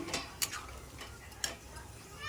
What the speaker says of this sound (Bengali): তারপর ভালোভাবে একদম নেড়ে নেড়ে নেড়ে নেড়ে কষিয়ে নিচ্ছি।